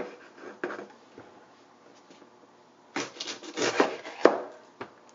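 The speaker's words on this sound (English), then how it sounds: "then cut the tops off of both of them." A knife slicing the tops off green peppers on a cutting board, with soft scraping cuts early on and a louder cluster of crisp chops and thuds near the end.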